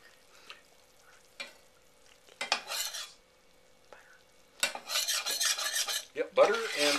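A brown roux of butter and flour is stirred in a pan, giving scattered scraping and clinking bursts that grow louder and more continuous toward the end, with no talking.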